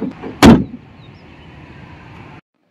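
A single loud, solid thump of a 2024 Hyundai Creta N Line facelift bonnet slamming shut, followed by a low steady hum that cuts off.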